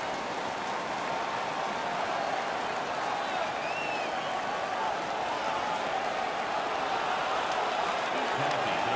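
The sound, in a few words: crowd cheering in ice hockey video game NHL 16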